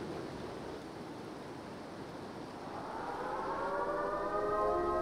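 Warning sirens in the video game Life is Strange True Colors begin to wail halfway through, rising as a wavering, distant tone over a steady rushing ambience, with no talk.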